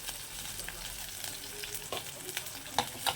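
Small shallots, ginger and green chili sauté in a pan, giving a soft, steady sizzle broken by a few sharp stirring clicks toward the end, fairly faint and without speech.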